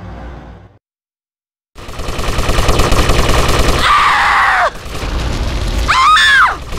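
Gunfire erupts in a Vice City Stories shootout, loud bursts and booms crowding the mix after a brief silence, with synthetic whistling tones and a rising siren-like sweep near the end.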